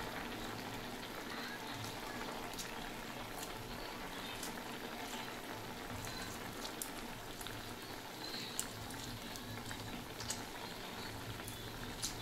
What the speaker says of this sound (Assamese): ঢাকি দিম আৰু এইদৰে লাহে লাহে বইল হৈ থাকিব